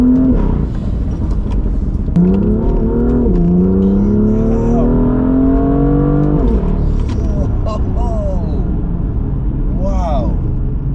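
Tuned BMW M2 Stage 2+ making about 442 bhp accelerates hard, its engine note rising steadily in pitch through gears with brief shift breaks, loud and close inside the cabin.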